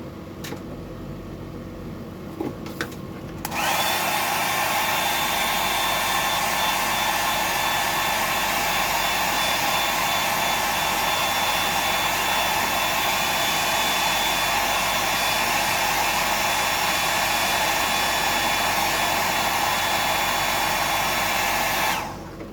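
A hair dryer blasts steadily at close range for about twenty seconds while drying off whiting fish bait, starting abruptly after a quiet few seconds and cutting out at the end, with no talking over it.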